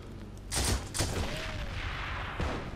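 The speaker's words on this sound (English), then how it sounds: "I think I just blew myself up with my own teller mine" A Teller mine detonating in the World War II shooter Heroes and Generals, several heavy close booms in quick succession followed by a rumbling tail and another blast near the end.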